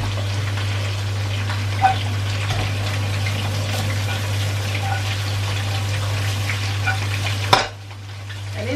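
Asparagus spears sizzle and fry in olive oil in a pan, a steady close crackle with a constant low hum beneath, a couple of louder clatters, then the sizzle cuts off sharply near the end.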